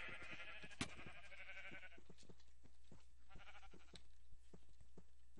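Repeated sheep bleats with a synthetic, game-like tone from the video game Sheep Quest, several calls overlapping over steady background clicks and tones, no talking.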